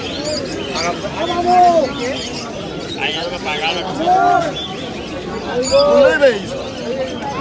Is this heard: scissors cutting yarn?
no